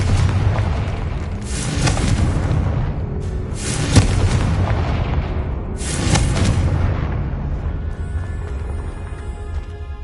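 Confringo fire-blast spell cast in the Hogwarts Legacy video game, heard as loud booming explosions, roughly three big bursts about two seconds apart over a continuous rumbling roar, with no talk.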